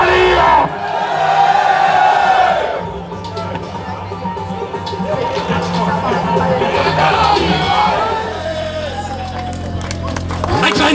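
A packed crowd at the Intersteam 2019 convention opening in Berlin cheers, whoops and shouts loudly and continuously, with voices and clapping mixed into the roar and a brief lull partway through.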